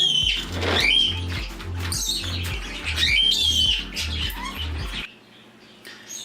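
Pet birds in an indoor bird room chirp and squawk in sharp, high bursts over a steady rhythmic low beat, with the calls scattered throughout before the background thins near the end.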